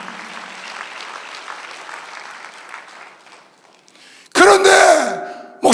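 Congregation applause during a Korean Sunday church service: a steady, broad patter of many hands clapping for about four seconds, then dropping away as louder voices and music cut in.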